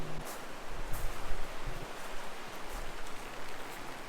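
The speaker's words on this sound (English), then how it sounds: "it's just started chucking it down" Heavy rain falls at a campsite along a European cycling route, a dense, steady wash of drops pattering on surfaces with no voices.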